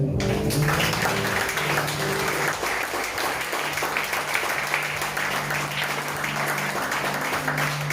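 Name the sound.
congregation applauding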